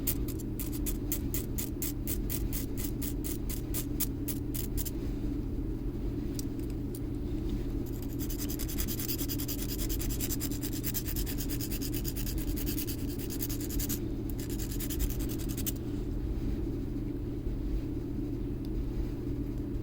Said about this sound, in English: This is just one of the cheap Harbor Freight diamond files.